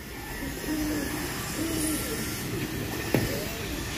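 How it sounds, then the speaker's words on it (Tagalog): Pigeons cooing at a racing pigeon loft, a few soft low repeated coos at moderate distance over a steady ambient hum, with one brief sharp knock near the end. "Ito yung mga ibon natin."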